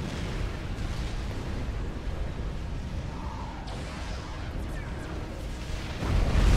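Rumbling booms and explosive bursts from bombs in the real-time strategy game Supreme Commander, a steady, dense low roar of battle that swells louder near the end.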